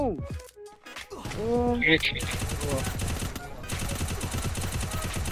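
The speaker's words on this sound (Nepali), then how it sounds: "2 राउन्ड हान्यो सुमन" Rapid gunfire rattles in a video game, with bursts of automatic fire and shots running continuously and loudly while excited voices talk over it.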